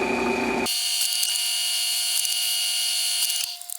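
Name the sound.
drill press drilling holes in Kydex holster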